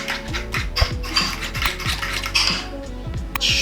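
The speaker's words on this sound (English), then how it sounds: "So you just need to whisk it up until all your ingredients are mixed in." Whisk scraping and clinking rapidly against a bowl while mixing a thick spicy Korean-style tofu sauce, a steady close-up rhythm of metallic rattles with no talking.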